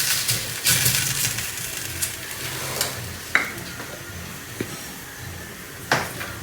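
Drumstick-leaf paratha roasting in oil on a hot pan, a steady close sizzle broken by scattered scraping and clacking from a spoon as it is pressed and turned.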